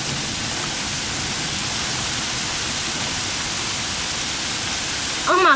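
A steady, dense patter of hailstones hitting the ground fills the air like heavy static, unbroken throughout, with a brief voice near the end.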